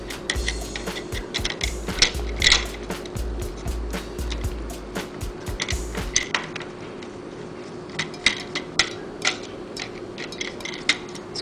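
Small clicks and scraping taps from a screwdriver working a screw out of a Nintendo Zapper light gun, close-up and irregular, with a steady low hum beneath.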